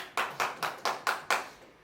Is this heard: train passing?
no